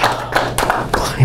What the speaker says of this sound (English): Give Dave a big round of applause